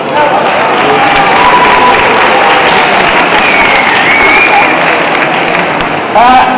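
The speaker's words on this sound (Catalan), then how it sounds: "Un aplaudiment del Patge Perú." A crowd at a Three Kings parade in Callús claps and cheers in a sustained round of applause for the page Patge Perú, loud and close, with some voices mixed into the noise.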